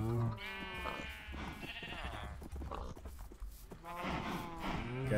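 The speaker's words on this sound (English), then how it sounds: "Oh, and the sheep." Sheep in a video game bleat repeatedly in wavering, nasal cries, several calls overlapping near and clear over a low, busy game background.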